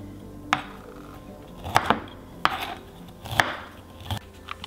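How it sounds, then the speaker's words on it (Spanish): Knife chopping food on a cutting board while preparing broccoli cheddar soup, five or six sharp, evenly spaced chops close by with short gaps between them and no talking. "Voy a picarlo un poquito más porque es muy grande."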